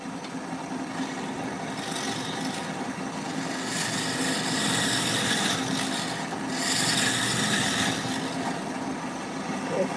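A round tool scrapes and rasps along a wooden tool handle spinning on a lathe, a steady, close abrasive hiss over a humming motor, swelling in a few louder passes.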